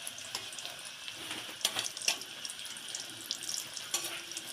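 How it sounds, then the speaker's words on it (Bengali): Momo or kachuri fry quietly in hot oil with a soft, continuous sizzle, broken by occasional light clicks and scrapes as they are gently turned. "বারবার এরকম উল্টিয়ে পাল্টিয়ে ভেজে নিতে হবে।"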